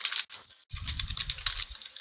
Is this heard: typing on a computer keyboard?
yes